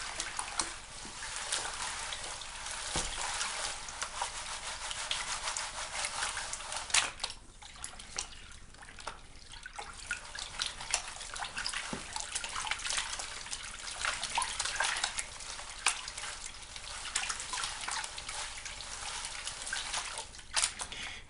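Water sloshes and swirls steadily in a gold pan as paydirt is worked, a continuous close wash with splashy bursts and occasional small clicks of gravel.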